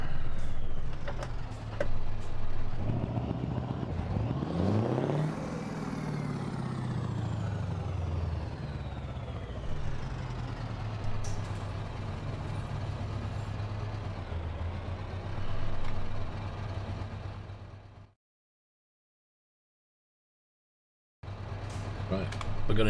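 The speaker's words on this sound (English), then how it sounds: "we've got a new sound mod in for the truck" Steady low rumble of a modded truck engine in Euro Truck Simulator 2, climbing through one rev before settling into a constant drone, then cutting to brief silence and returning; no talk over it.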